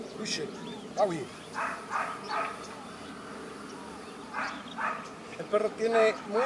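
An aggressive guard dog barks and yips in short, scattered bursts at moderate distance, with whimpering sounds and a few human voices between.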